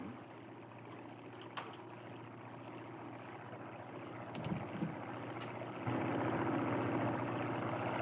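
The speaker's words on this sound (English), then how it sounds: "Look, that airplane up there." A propeller airplane drones overhead at a distance, a steady broad hum that swells slightly toward the end, with no talking.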